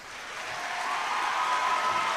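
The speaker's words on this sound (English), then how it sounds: "A round of applause" An audience at a technology center senior ceremony applauds, a soft wash of clapping that swells gradually and holds steady, heard from a distance in a large room.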